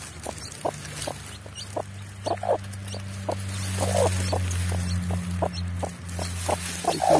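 Newly hatched chicks peep in short, high, repeated chirps, close and steady over a low background hum, from a brood of fifteen hatched by a hen nesting in the brush.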